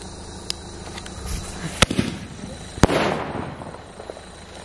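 A swastik wheel Diwali firecracker is lit and bursts, giving a few sharp, loud cracks over a hissing, crackling spray, heard close by and outdoors.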